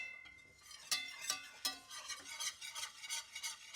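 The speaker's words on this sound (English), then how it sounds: "I'm gonna keep on whisking until this gets a nice golden brownish color." A whisk works a flour roux in a pan for chicken fried steak gravy, making quiet scraping strokes with soft rhythmic clicks against the metal, close by and with no voices.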